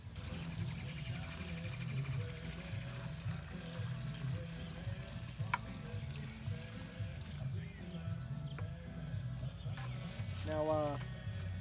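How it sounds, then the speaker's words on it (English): Water is added to a concrete mix, giving a quiet, continuous trickle and pour over a low background hum. "So now we just have to add some water."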